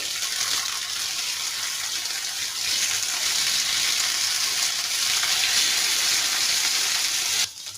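Pieces of rohu fish and potato fry in a pan with a loud, even hiss that runs without a break, then stops abruptly at the very end.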